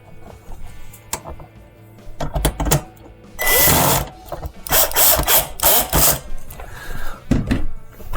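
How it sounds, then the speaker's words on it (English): A power drill drives a screw into the control panel of a Maytag dishwasher during repair, with several short whirring bursts and a longer sustained run separated by handling clicks and pauses, close and loud. "what we're going to do is reattach the screw that went on the bottom."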